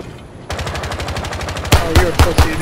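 Automatic gunfire in the video game Rainbow Six Siege: a loud, rapid burst of evenly spaced shots, followed by several heavier, punchier single shots, close and with no talking.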